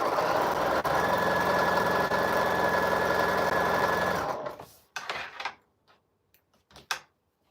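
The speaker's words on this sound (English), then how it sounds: "So I'm going to put these two pieces together." A sewing machine runs steadily for about four seconds while two quilt pieces are joined, then stops, followed by a few short handling clicks and rustles.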